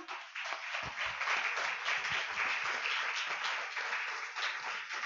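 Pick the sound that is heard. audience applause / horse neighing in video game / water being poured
audience applause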